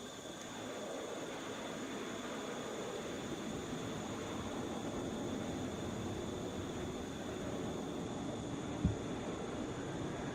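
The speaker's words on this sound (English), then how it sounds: "This is Delta 2687 coming in from Detroit. 32 minutes early. That was a Boeing 737." A Delta Boeing 737 arriving from Detroit lands at Atlanta's international airport, giving a steady, broad jet roar that holds for several seconds at moderate distance, with one brief thump near the end.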